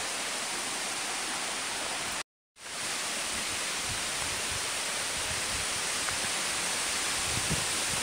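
Constant broadband roar of a waterfall heard from a viewing area, loud and unbroken apart from a brief cut.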